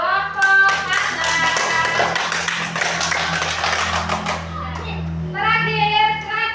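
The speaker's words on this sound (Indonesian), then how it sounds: "kita sekali lagi beri tepuk tangan untuk kelompok Anda" Classroom applause for a student group, a dense burst of many hands clapping together for several seconds before fading, with children's voices and chatter mixed in.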